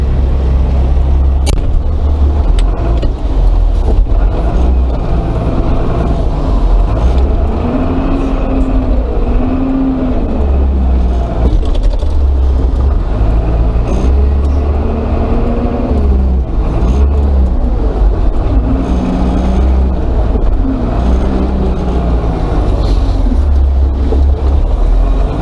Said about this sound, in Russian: Машина пришла. Костя приехал на своем желтом МАЗе.